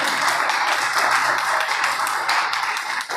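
An audience at a drug de-addiction counselling session claps loudly and steadily in a dense, continuous burst that thins slightly at the very end.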